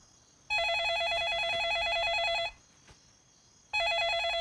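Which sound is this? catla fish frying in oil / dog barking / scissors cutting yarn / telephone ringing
telephone ringing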